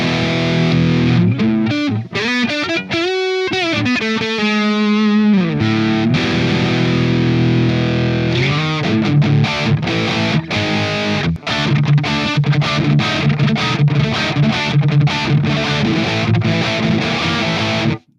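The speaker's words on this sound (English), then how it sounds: "that is not guitar noise, that's amp noise" Distorted electric guitar tone through the Polychrome DSP McRocklin Suite amp simulator, loud and continuous with chords, sustained notes and a brief near-silent gap; the amp's noise sits under the playing.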